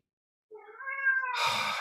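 A cat gives one clear, rising and falling meow, close and alone, which runs straight into a burst of broad noise.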